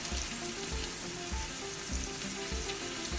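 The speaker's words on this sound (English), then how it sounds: "I have to cut the blood sausage and that roasts together then" Sliced blood sausage roasts in a pan, giving a steady close sizzle with soft recurring low thumps from the stovetop.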